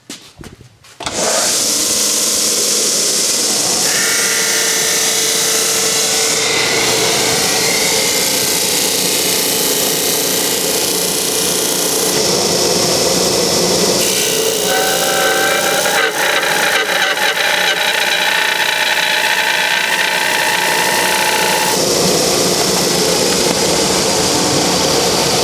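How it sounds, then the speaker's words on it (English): Disc sander grinding excess wood off a guitar-building workpiece, a loud continuous whine with shifting tonal bands as the wood is pressed and moved against the disc, steady throughout with no talk. "Now, over to the disc sander to sand off that excess."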